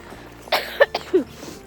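A few short, harsh coughs from a lingering winter cold in quick succession, close and moderately loud, with quiet gaps between them and no talking.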